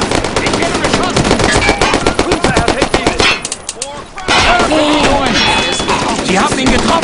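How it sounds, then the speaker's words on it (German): Machine gun fire in the World War II shooter Brothers in Arms, loud sustained rapid bursts with a brief lull midway before the firing resumes, game sounds dense and up close. "Ich werde beschossen."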